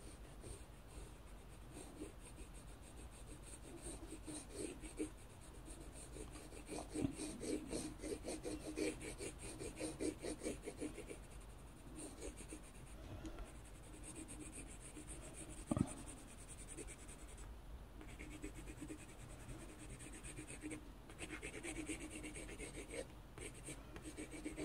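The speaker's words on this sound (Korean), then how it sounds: "115번 주황색 계열로 여기 수평선 위에 하늘 쪽을 칠해줍니다" An orange watercolor pencil colouring the sky above the horizon in a sunrise sketch on paper, a long stretch of steady rhythmic scratchy strokes that comes in bursts, close and quiet, with no talking.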